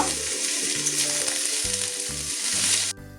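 Prawn heads and pointed gourd peels, seasoned with salt and turmeric, fry in a pan with a loud, steady sizzle and occasional stirring scrapes. The sizzle cuts off abruptly near the end.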